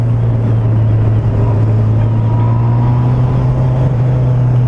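A Honda CBR 600F motorcycle engine roars steadily on the road, a loud, low, continuous drone with a faint whine above it, close and unbroken.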